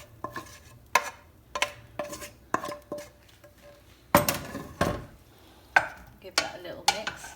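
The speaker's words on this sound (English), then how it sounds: "add your lovely vegetables to your pasta" Vegetables being added to pasta with a utensil, a series of irregular clinks and scrapes against a bowl or pan, close and distinct, with soft stirring between hits.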